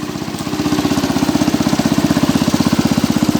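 Cub Cadet 86 tractor engine with a leaking head gasket running with a strange noise, a steady rapid mechanical chugging and knocking pulse, loud and close, that builds slightly in the first half second and then holds an even rhythm.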